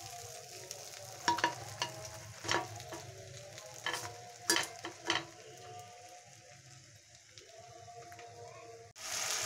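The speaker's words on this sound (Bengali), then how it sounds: "এইভাবে একে একে আমি তোপসে মাছগুলোকে ফ্রাই করে নেব।" Topse fish frying one by one in hot oil on high heat, a soft continuous sizzle punctuated by several crackling bursts and spatters, ending with a sudden louder surge of frying.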